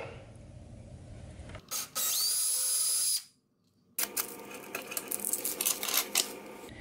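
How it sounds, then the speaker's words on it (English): A power drill whines in a short burst, stops, then bites again with rougher grinding and rattling as it cuts into material. "And now we'll drill our pilot hole."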